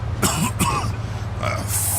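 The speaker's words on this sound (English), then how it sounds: "Every time I cough, it feels like I'm being stabbed in the chest" A wounded character in the video game Mafia 2 coughs in a few short, rough bursts, close and fairly loud, over a low steady background hum.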